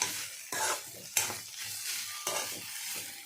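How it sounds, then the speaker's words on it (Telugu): Ridge gourd peels frying in a pan for chutney make a soft, steady sizzle, broken by a few scraping stirs every second or so. Close and moderately quiet, with no voices. "ఇంకా కాసేపు మనం వేగించుకుంటే ఇంకా బాగుంటుంది"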